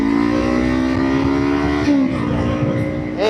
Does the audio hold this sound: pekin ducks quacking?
no